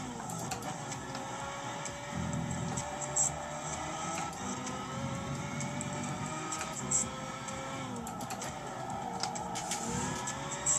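A race car in Gran Turismo 5 drives through corners, its engine droning and shifting pitch steadily at a faint, distant level, with occasional ticking clicks and no talking.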